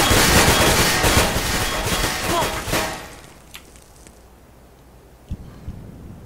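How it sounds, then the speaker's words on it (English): An incendiary grenade thrown in a first-person shooter game: a loud, dense burst of crackling fire and blasts that cuts off abruptly and is followed by a few scattered sharp pops and clicks in a quieter room. "Incendiary out."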